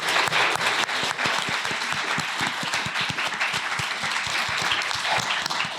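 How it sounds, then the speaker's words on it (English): Steady applause from the audience at a literary festival panel, many hands clapping densely and evenly at moderate volume for several seconds with no talk over it. "one more please round of applause for my colleagues, for Cherie."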